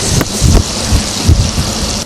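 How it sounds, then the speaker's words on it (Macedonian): Frying in a pan half full of hot oil, as for a breaded schnitzel in a cooking competition kitchen: a steady, dense crackling hiss with low rumbling bursts and thumps, loud and close, with no talk. "Пржење во тава, маслотија до пола"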